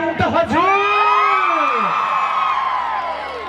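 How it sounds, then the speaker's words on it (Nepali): A large crowd at a stage event in Salyan featuring a Nepali film superstar erupts in loud whoops and cheers. Rising and falling shouts ring out close and dense, then slowly fade. "एकचोटि पौसालाई फेरि न्यानो ताली हल्ला दिउँ त हजुर"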